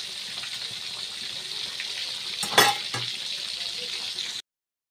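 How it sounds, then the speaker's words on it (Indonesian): Salted sepat fish fries in reused oil that was previously used for chips, a steady crackling sizzle with a sharper spatter burst midway, close and loud, then abruptly cut off. "Ini minyaknya enggak perlu yang baru ya, soalnya ini goreng asin sayang."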